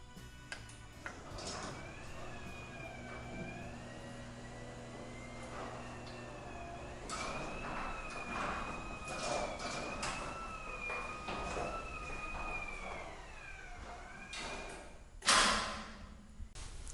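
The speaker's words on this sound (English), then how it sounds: "And then I can also use the app to put the door down." A Chamberlain garage door opener lowers the door, with a low, steady motor hum beneath faint, wavering warning tones and a brief clunk near the end, all quiet and alone.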